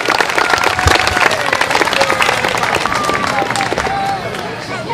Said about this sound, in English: Can we please give another round of applause?